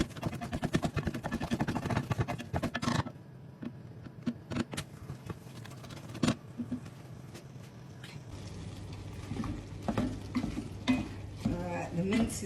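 Beef mince cooking in a pot for bolognese, broken up with rapid scraping and clacking spoon strokes over a soft sizzle, busy and close at first, then quieter with scattered knocks.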